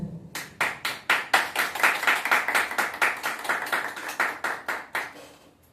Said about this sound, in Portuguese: Então, todos os nossos aplausos a Pietro Costa.